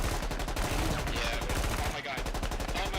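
Rapid automatic gunfire rattles in the video game Mechanized Warfare, a dense, continuous stream of sharp shots with a brief pause midway, loud and relentless throughout.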